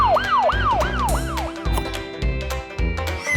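A police car siren wails in fast, repeating rising and falling sweeps, then settles into a steadier tone, loud and close throughout.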